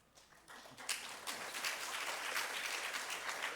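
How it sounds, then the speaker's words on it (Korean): A church congregation at a Korean Sunday worship service applauds as the pastor comes forward, a dense, steady crackle of many hands that swells in within the first second and holds at an even level. "나오실 때 박수로"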